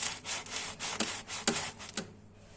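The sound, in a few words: knife cutting a crusty homemade loaf of bread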